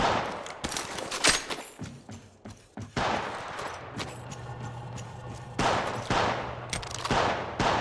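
Gunfire in the Apex Legends Mobile battle royale game, rapid bursts of automatic shots with sharp cracks and thumping impacts, loud and close, broken by short pauses and resuming in clustered volleys.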